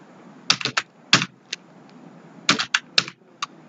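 Someone types on a computer keyboard during data entry, in two short, quick clusters of crisp, close keystrokes separated by a pause, with no talk.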